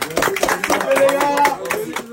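Young football players clap for themselves after a match, a short close-up burst of claps with a voice speaking over it.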